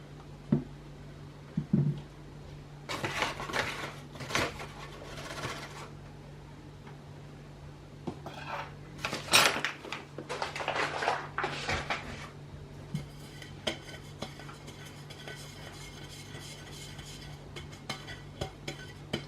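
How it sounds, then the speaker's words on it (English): Flour is shaken and spread around the inside of an oiled baking tin for a homemade corn cake, with soft scraping, rustling and a few light metallic taps in intermittent bursts, close and fairly quiet. "make sure add the flour all around of your tin as well, and remove the excess"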